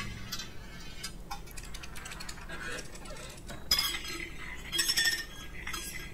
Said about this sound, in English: The sound design on the glass is so on point.